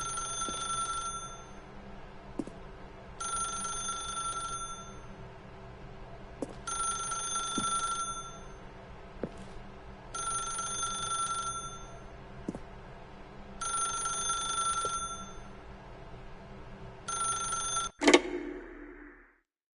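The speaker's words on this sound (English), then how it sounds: "then pick up the phone" A telephone rings steadily in The Stanley Parable, six evenly spaced bell-like trills a few seconds apart, ending in a sharp click as the receiver is picked up.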